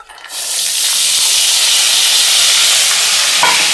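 Green beans dropped into hot oil in a wok set off a sudden loud sizzle that holds as a strong, steady hiss while they are stirred, up close.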